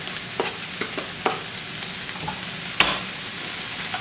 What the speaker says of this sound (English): You can see how nice the onions are sauteing.